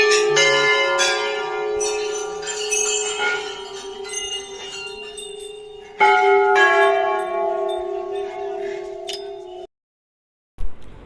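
Many bells ring at Golu Devta temple in Kumaon, overlapping clangs and sustained metallic tones layering densely before the sound cuts to near silence, then a brief clang returns near the end.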